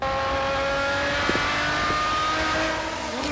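GT race cars, including a Maserati, roar past at Spa during the 2008 FIA GT 24 Hours, loud sustained engine whine with shifting pitch as they go by.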